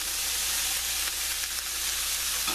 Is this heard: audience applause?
no